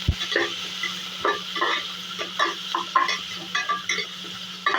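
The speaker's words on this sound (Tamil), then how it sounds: "2 பெரிய வெங்காயம் நீட்டு வாக்கில் கட் பண்ணது. நல்லா ஃப்ரை ஆகும் பிரியாணிக்கு." Two large onions, sliced lengthwise, fry in a pan for chicken biryani, with a steady sizzle broken by repeated rhythmic scraping strokes of a spatula, close and fairly loud.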